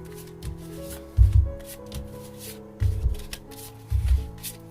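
A deck of tarot cards being shuffled by hand, soft riffling and rubbing in several short bursts with brief pauses, close and fairly quiet over faint background hum.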